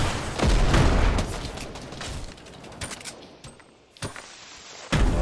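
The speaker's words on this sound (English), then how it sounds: "More grenades." Grenade explosions and gunfire in a video game, with a heavy loud burst at the start, a rattle of shots that thins out, and another sharp blast near the end.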